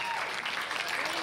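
Brief burst of clapping at the Five Diamond World Poker Classic final table as a player applauds. It is dense, steady and close, lasting barely over a second.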